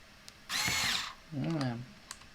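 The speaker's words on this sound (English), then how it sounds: "So I'm going to go ahead and put the screws on there." A power drill drives screws into a homemade throttle/mixture module for a flight simulator cockpit, with two short, close whirring bursts, the second dropping in pitch as it tightens.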